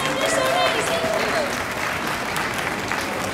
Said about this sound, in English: Ladies and gentlemen, a massive round of applause, please